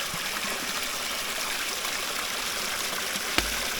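A river stream in rural Jamaica flows steadily near a waterhole, a constant broadband rush of water with one brief knock near the end.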